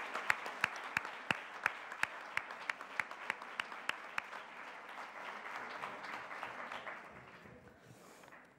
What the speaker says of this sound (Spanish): pido un aplauso para ella porque se encuentra aquí en primera fila